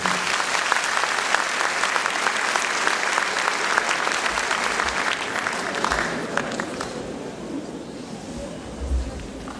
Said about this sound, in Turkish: Ve Sayın Genel Başkanımız Mustafa Vestici Beyefendi'yi alkışlarla buraya davet ediyorum.